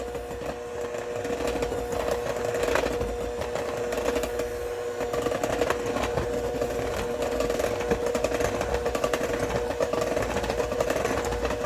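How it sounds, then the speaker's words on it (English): An electric hand mixer churns cake batter made from a boxed cranberry orange cake mix, giving a steady, continuous motor whir at an even level throughout, with no talking. "we're going to take our lovely little hand mixer. We're going to give it a quick little churn to get everything mixed together"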